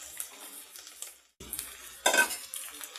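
Sago pearls tumble into a pan with green chillies and are stirred, giving a burst of rattling, scraping spoon strokes with a brief sizzle, close and fairly loud after a short pause.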